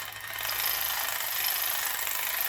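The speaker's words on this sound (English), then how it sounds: "we're going to use the Milwaukee 3/8 ratchet because it has a variable speed control on it" A Milwaukee 3/8 power ratchet backing a spark plug out of a Chevy Malibu 2.5L engine: a steady, close buzzing whir that holds even for the whole stretch with no talk over it.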